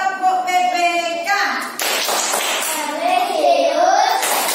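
An Indonesian primary school class on their feet in a Pancasila lesson, doing the PPK clapping chant: children's voices chant in unison with claps mixed in, and a sharp clap burst cuts in midway, loud and close.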